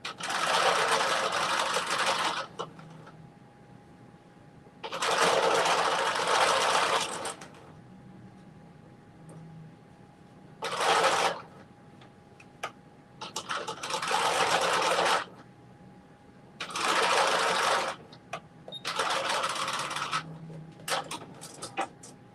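Sewing machine running in several loud bursts of a few seconds each, finishing a stitch on a headband for a Simplicity 9658 headband and mittens project, with quiet pauses between runs.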